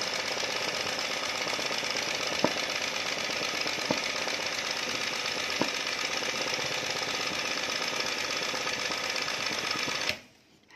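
An electric motor driving a machine at reduced speed, about 900 rpm, hums steadily and loudly with a few sharp ticks before cutting off abruptly near the end.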